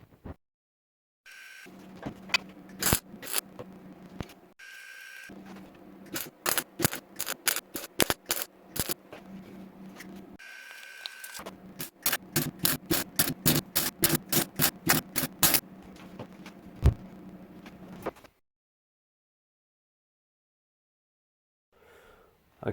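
MIG tack welding a brace onto the sill of a 1965 Sunbeam Alpine, with steady crackling buzz broken into bursts and rapid rhythmic series of short sharp pops, then silence at the end.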